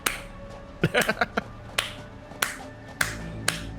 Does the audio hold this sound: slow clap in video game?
yes